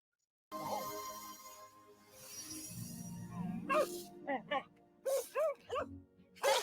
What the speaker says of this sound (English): He always sounds like a dog.